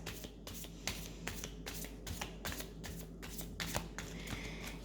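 A tarot deck is shuffled by hand in quick, rhythmic riffles, each a crisp burst of card flutter repeating about twice a second, close up and quiet with no speech.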